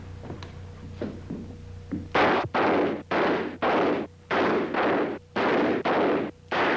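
Gunfire from a gunfight scene in the film .357 Magnum, a loud string of about nine evenly spaced, sustained blasts following a few softer sounds at the start.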